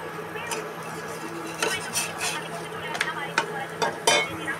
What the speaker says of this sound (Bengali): পরোটাগুলো ভেজে নিচ্ছি।